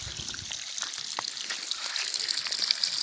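Water flows steadily from a solar pump pipe about 1 to 1.5 inches wide, a continuous splashing gush with fine trickling detail, moderately close and at an even level.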